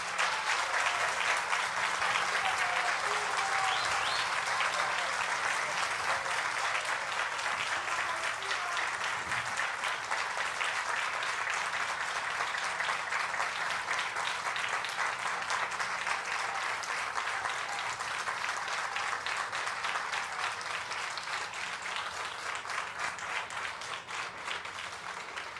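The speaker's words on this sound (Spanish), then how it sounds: "Un aplauso para los compañeros que están pasando." Sustained crowd applause at a talk: thick, unbroken clapping for over twenty seconds over a low steady hum, slowly easing off toward the end.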